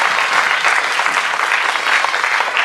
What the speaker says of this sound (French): Je vous prie d'applaudir très très fort Pierre, Nassima et Anne-Laure pour la forge.